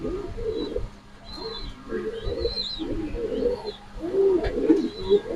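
Racing pigeons coo repeatedly in a loft on a pigeon farm, a series of soft rolling calls close by, with a few higher chirps mixed in and faint background noise.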